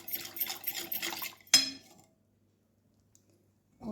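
Dough ingredients for Fez-style khobza madfouna with chicken, including yeast, natural honey and liquid, are stirred in a bowl, a close run of clinking and scraping utensil-on-bowl sounds that stops abruptly with one sharp clack, followed by near silence.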